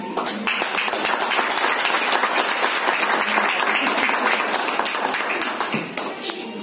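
Audience applause welcoming a guest at an honoring ceremony, a steady burst of many hands clapping close by that tapers off toward the end.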